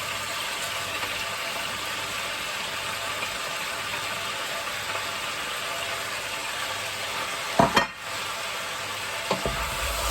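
One large onion and five garlic cloves fry in a pan for a chicken curry, giving a steady close sizzle throughout. A brief scrape of stirring comes near the end and a quieter one follows.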